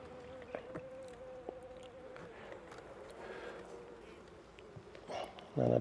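Honeybees buzz around an open hive frame during brood inspection, a faint, steady hum with occasional louder passes near the microphone, while a person talks.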